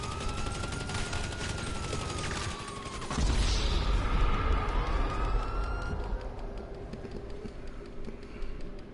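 GTA 5 street chaos: a rattle of game gunfire under a police siren that wails up and down throughout, getting heavier and denser partway through.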